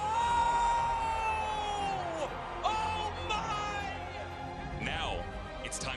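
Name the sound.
football stadium crowd cheering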